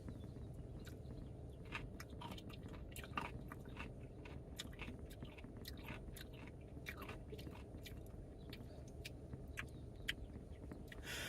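Crunchy Culver's pickles are chewed and bitten in a steady run of close, crisp crunches with soft, wet mashing sounds. Quiet and close, with no talking over it.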